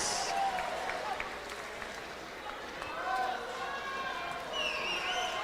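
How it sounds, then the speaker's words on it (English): Audience applause at a U Sports national swimming championship evening session, a moderate spread of clapping and crowd noise in a large indoor pool venue, under a continuous announcer's voice. "Give it up for Emma Spence of the UBC Thunderbirds."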